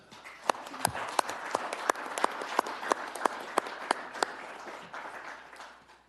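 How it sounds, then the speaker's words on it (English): Small audience at a county commission meeting applauding, a steady patter of hand claps with a few sharper, louder claps standing out, moderately near and lasting several seconds. "could we give them a round of applause?"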